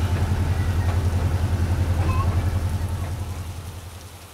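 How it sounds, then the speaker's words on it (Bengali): Heavy rain pours steadily as a dense, even roar with a low rumble beneath, loud and close, fading somewhat toward the end. "মুষলধারে বৃষ্টি হচ্ছে।"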